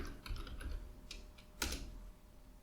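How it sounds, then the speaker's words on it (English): Typing on a computer keyboard, a short run of soft, close key taps with a couple of sharper clicks, no talking. "let's type Stellar Repair for MS SQL online"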